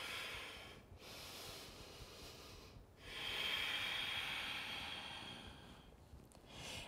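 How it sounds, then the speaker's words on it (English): Slow, deep breathing during a yoga flow, long smooth airy inhales and exhales with brief pauses between, close and steady, breathy hiss without any talking. "Nice, long, smooth, deep breaths here"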